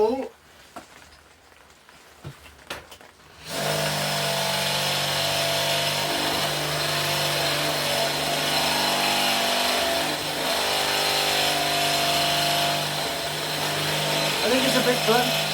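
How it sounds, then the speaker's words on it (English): A motor-driven drill bores a hole in a metal indicator bracket clamped in a vise, starting abruptly after a few quiet handling noises and then running as a loud, steady whine that wavers slightly as it cuts. "Drill hole."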